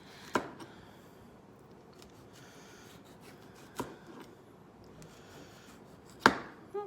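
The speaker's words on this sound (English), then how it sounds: "Serrated knife I always find is better for me when I'm doing tomatoes." Serrated knife cutting through tomatoes on a board, three distinct sharp chops spaced a couple of seconds apart, with quiet sawing between them and no talking.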